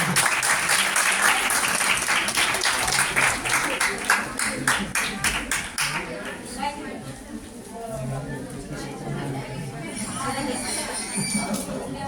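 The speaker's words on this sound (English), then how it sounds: "Please clap for her." Audience applause at a college Teachers Day celebration: loud, dense clapping from a crowd for about six seconds, then fading into a murmur of chatter and voices.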